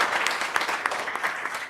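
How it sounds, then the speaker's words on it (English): An audience at a startup talk gives a short, steady round of applause, dense clapping filling the room at an even level. "Round of applause."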